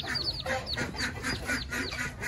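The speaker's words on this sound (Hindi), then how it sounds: "ये देखें जी हमारी डक्स के प्यारे प्यारे डकलिंग जो हैं, बहुत प्यारे प्यारे हैं" Ducklings and ducks being released near water, with repeated short high peeping and clucking calls in quick bursts, fairly close and steady over a brief moment, no talk.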